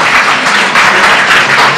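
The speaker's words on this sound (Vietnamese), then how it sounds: "Hãy vỗ tay cho Chúa Giêsu Amen." A church congregation applauding for Jesus, a loud dense wash of many hands clapping together, continuous and close with no break.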